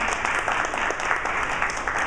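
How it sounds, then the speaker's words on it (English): Audience applause at a business event, sustained and steady clapping from a crowd throughout with no talk over it. "Give them a round of applause."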